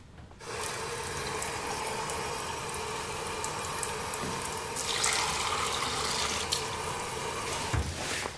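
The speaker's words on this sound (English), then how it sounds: "Water. Pure water." Water runs steadily from a tap into a sink, a continuous close splashing rush that holds for several seconds and grows slightly louder midway, with no talking over it.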